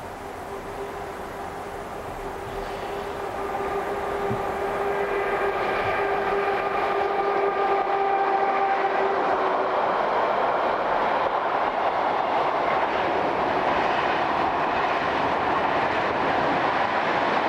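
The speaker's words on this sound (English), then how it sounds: "A little further east and 636160 powers towards Chivasso." Locomotive 636160 powers past heading towards Chivasso, its engine drone building from a distance into a loud, steady roar with strong tonal hum, sustained to the end.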